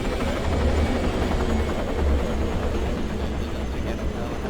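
Loud, steady video game helicopter rotor thrum with a deep pulsing chop and engine whine, continuous throughout with no talking.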